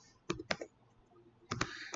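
Computer keyboard typing in a classroom during a lecture. The keystrokes are quiet and close, with a short cluster of taps, a pause, then another quick burst of taps.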